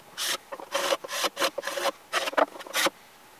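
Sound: scraping first coat of finish off wood

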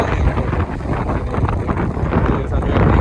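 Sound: strong wind on the microphone

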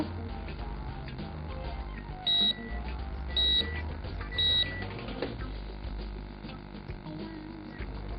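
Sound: microwave oven timer beep

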